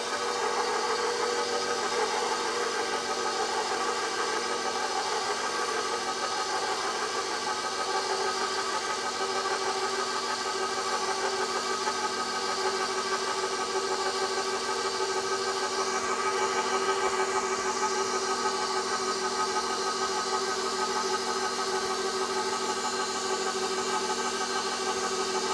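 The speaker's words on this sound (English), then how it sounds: "I'll put my mixer on low and slowly add in the flour mixture" Electric mixer running on low, blending flour into applesauce bread batter, a steady even motor hum holding at constant level throughout with no talk.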